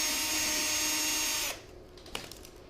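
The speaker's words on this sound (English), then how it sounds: "I'm going to go ahead and drill these two top holes first." Power drill boring holes in a steel toe boot, a loud steady high whine for about a second and a half that cuts off abruptly, followed by light handling clicks.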